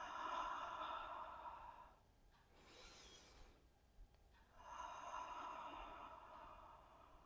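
One deep yoga exhale in pigeon pose, a brief soft rush of breath through the mouth, close and quiet, framed by calm room ambience with no speech.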